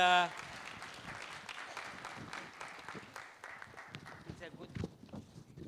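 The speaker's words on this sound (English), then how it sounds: "Let's applaud him." Sparse, fairly faint clapping comes from an audience at a Central and Eastern European regional business summit, scattered claps that thin out while a voice talks over them.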